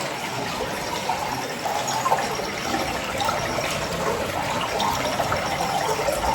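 Water flows without pause at the Jatashankar shrine, a steady close rushing and splashing that fills the whole stretch with no voices.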